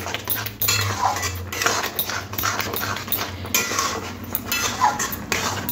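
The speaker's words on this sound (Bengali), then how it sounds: "এক হাতে এরকম খুন্তিটা নাড়বো, আর এক হাতে সুজি দিয়ে দেবো" A metal spatula scrapes and clinks against a pan while semolina is stirred into boiled potatoes, a steady busy clatter with a low background hum and no talking.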